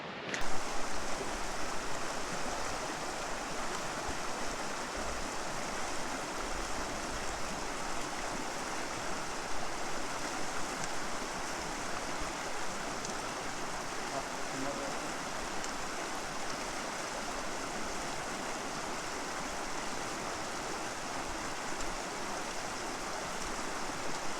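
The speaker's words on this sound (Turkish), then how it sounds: "Ama kesinlikle görülmesi gereken bir şelale gerçekten." Kurudere waterfall in Sakarya rushing, a steady broadband roar of falling water heard alone and unbroken throughout.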